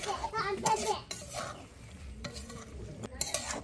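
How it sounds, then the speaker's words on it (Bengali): Small fried fish being stirred in a cooking pan, the spatula scraping and clinking against the metal in irregular strokes over a soft background sizzle, close and fairly loud. "এইভাবে একটু ভালোভাবে নাড়াচাড়া করতে হবে।"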